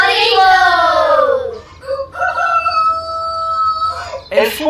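A rooster crows loudly and close by, a long drawn-out call, followed by softer fowl noises.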